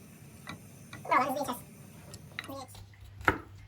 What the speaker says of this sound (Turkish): Sarımsakları biraz doğruyorsun herhalde